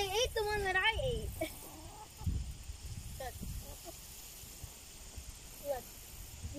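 Chickens cluck and crow in short bursts, one loud call near the start followed by scattered quieter clucks over soft background noise.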